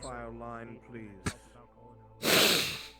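Someone blows their nose into a handkerchief: a short sharp snort, then a loud, breathy blast of about a second that trails off, following speech in a roleplay scene.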